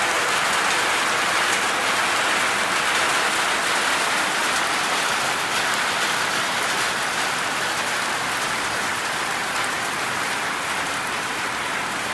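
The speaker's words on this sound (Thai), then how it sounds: "พี่น้องมาเบิ่งบรรยากาศลมฝนกำลังสิมา" Heavy rain pours down ahead of a storm, a loud, dense and unbroken wash of falling water that continues steadily throughout with no talking.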